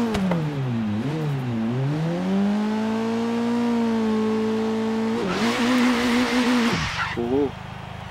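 An Abarth 695 Biposto engine in Forza Horizon 3 revs loudly, its pitch dipping and climbing before holding a high sustained note, then a brief harsh burst and a sudden drop as the revs fall away.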